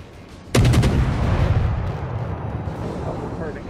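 Naval gunfire strikes ships in a World of Warships-style game as a Kagero destroyer fights: a sudden heavy boom with rapid rattling impacts, followed by a long rumbling decay.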